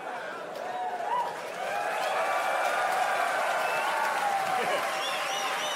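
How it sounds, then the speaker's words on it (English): A comedy show crowd claps and cheers in a steady wash of applause, with a few voices and whoops rising over it. "That's an applause break."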